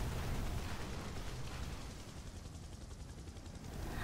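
Air Raid helicopter construct attack in the DC Universe Online video game, a dense, roaring rumble of blasts and gunfire-like noise that stays steady for about four seconds, fairly faint and with no voices.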